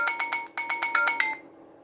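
An Alcatel OT332 mobile phone switching on plays a short electronic jingle of about nine quick, evenly spaced tones, clear and close, fading out at the end with no talking.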